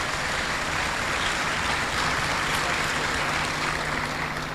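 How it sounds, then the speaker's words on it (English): A large audience applauds itself at a ceremony after passing a test of competence, dense continuous clapping filling the room at a steady even level with no voices over it. "Clap for yourselves."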